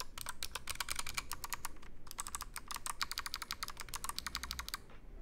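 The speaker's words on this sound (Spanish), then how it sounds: "unos switches con un recorrido algo más corto de lo normal y un sonido clicky muy suave que me gusta y no llega a molestar" Fingers type quickly on an Ajazz Zero mechanical keyboard with short-travel, softly clicky switches, making a dense run of light, quiet clicks that pauses briefly midway before resuming.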